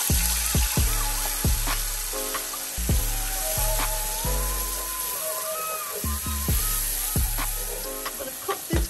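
Curry base for a baby aubergine curry sizzles and fries in a pan, a steady close crackle broken by a series of sharp metallic clinks and scrapes as it is stirred.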